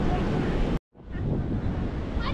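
Sea surf rolling onto Shiroda beach in Vengurla during light monsoon drizzle, a steady broadband wash with wind buffeting the microphone, briefly cut to silence before resuming.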